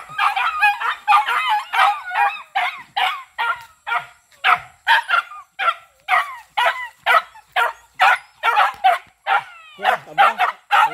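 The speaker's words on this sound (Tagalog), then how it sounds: "Ang ingay itong mga aso." A pack of excited dogs barks loudly and continuously in rapid, overlapping bursts, with yips and goose-like squawks mixed in, all close by.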